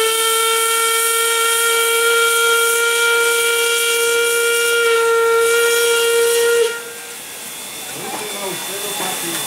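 A steam locomotive with a two-cylinder steam engine sounds a loud, sustained steam whistle for several seconds, which cuts off abruptly into hissing steam and yard ambience.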